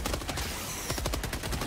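Break-action shotgun firing in Helldivers 2, a rapid string of loud blasts and bursts of gunfire close up, with no voices over it.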